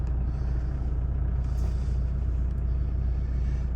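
Toyota Hilux Double Cab 2.4 D4D manual diesel running after start-up, a steady low rumbling idle close by that holds evenly throughout.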